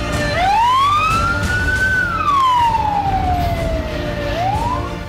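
A fire brigade siren wails near a burning plaza where hundreds were trapped, its loud tone sweeping up and down in long continuous rises and falls over a steady background rumble, with no talking.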